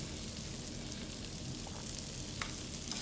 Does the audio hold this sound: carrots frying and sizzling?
yes